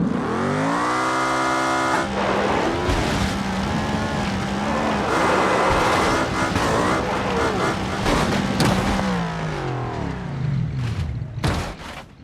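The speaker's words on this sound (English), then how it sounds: "Baja truck." A Baja truck in BeamNG.drive drives hard, its engine revving loudly and continuously, with tire noise and sharp crashing impacts near the end.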